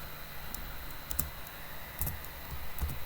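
Typing on a computer keyboard while writing Angular unit test code: quiet, irregular clusters of sharp key clicks with short pauses between bursts, close by and with no talk.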